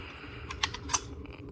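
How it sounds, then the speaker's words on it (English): An air rifle barrel is slid out of an open-breech gun, a short cluster of small metallic clicks and light rattles, close and quiet, over a low steady background hum. "I'll pull the barrel out."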